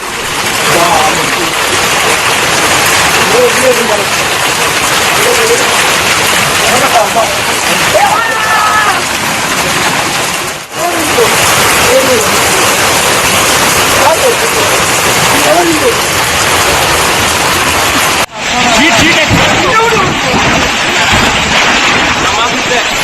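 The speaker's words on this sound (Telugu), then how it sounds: "క్యాథలిక్ క్లబ్లో వడగళ్ల వాన పడుతుంది." Heavy hailstorm rain pours down steadily in Bengaluru, a dense, loud wash of falling water and hail with brief dips around the middle and near the end, while faint voices come and go beneath it.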